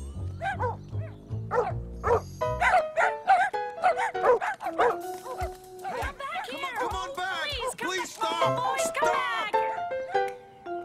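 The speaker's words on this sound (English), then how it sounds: "A very smart dog." A cartoon dog barks with short yips and whimpers, loud and close, in an animated children's show, interspersed with voices talking and background music.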